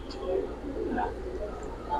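Giribaz pigeons from a single loft coo softly in a steady low murmur, with faint voices in the background.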